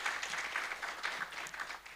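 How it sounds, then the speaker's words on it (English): An audience claps for a panel at a STEM event in Africa, a short, fairly faint patter of applause that runs steadily without voices. "Please can we have a round of applause for our panel?"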